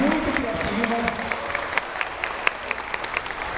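An audience applauds a trio at a 2012 competition tiebreaker: steady crowd clapping with sharp individual claps standing out, while a voice briefly speaks over it at the start.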